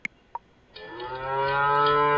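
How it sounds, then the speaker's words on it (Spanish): A cow gives one loud, drawn-out moo, close and clear, after a couple of faint clicks. "Estas son 3 vacas."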